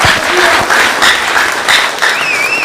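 Applause from an audience at a young aspirants' political forum in a hotel, a steady dense wash of many hands clapping throughout, with faint crowd voices and a brief whistle-like tone near the end.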